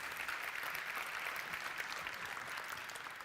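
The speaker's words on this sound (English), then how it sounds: "So our applause to the UK Ministry of Defense for that solution" Applause from the audience at the European Identity & Cloud Awards ceremony, a steady, dense clapping that holds an even level throughout with no voices over it.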